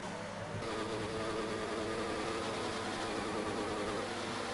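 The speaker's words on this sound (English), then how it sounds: "revving up his engine" A Formula 1 car engine in a racing video game at the Abu Dhabi circuit gives a steady, buzzing high-pitched whine that holds continuously throughout, with no talking.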